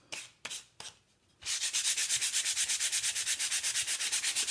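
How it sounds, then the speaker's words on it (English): Hand sanding of a wooden sign: a few separate scrapes, then a long steady run of rhythmic back-and-forth strokes, close and fairly loud, with no talk over it. "you're just going to sand this till you get a nice look that you want"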